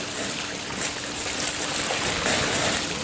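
Water rushing steadily through pool plumbing lines during a pool opening, a constant broadband flow heard up close with no breaks.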